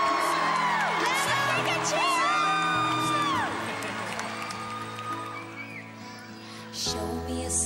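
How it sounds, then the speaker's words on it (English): Crowd at a Carols by Candlelight Christmas concert cheering and whooping as Santa arrives, loud sustained cheers with bright whistling whoops over music, fading midway before swelling again near the end. "Here comes Santa, guys. Give him a cheer."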